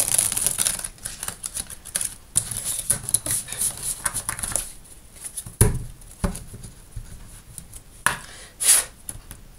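A tarot card deck is cut and shuffled close up, giving rapid crisp pattering flicks of cards with a few sharper snaps and brief pauses between runs, and no one speaking.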